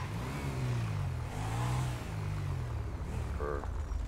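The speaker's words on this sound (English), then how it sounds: "this is doing like engine rattling sounds" In the GTA video game, a car engine drones and revs with a rough, rattling tone, rising and falling in bursts at moderate level, with no talk over it.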